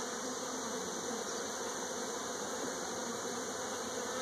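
Honeybees buzzing steadily around an open hive during an inspection, a dense continuous hum that stays even and fairly soft throughout, with no voices.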